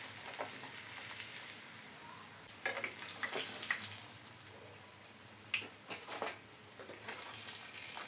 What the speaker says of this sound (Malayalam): ഇതുപോലെ എല്ലാം നമുക്ക് ഫ്രൈ ചെയ്തെടുക്കണം